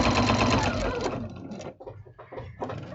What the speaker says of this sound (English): Now I'm just going to sew back across here